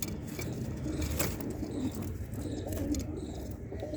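Pigeons cooing in a home loft of breeding pairs, including Punjabi and Malbai breeds: low, soft, repeated coos over a dense rustling background, fairly faint and close, with no talk.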